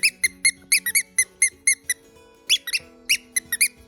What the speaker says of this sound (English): make it squeak